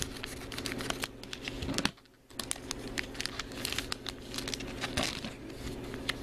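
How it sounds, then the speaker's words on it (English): Scissors cut open a crinkly plastic Disney Frozen blind bag close to the microphone, a steady run of crackling, crinkling rustles with a brief pause partway through. "I'm gonna cut it just to make sure I don't cut the sticker"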